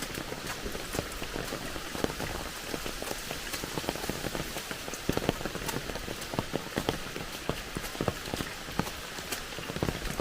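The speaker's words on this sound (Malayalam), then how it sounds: "ഈ മഴയത്ത് കണ്ണും കാണത്തില്ല, കൂറ്റാക്കൂരിട്ട്." Heavy rain falls steadily, a thick hiss broken by sharp drips and splats landing close by, continuous and fairly loud throughout.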